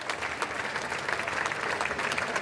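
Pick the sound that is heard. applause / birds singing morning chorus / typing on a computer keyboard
applause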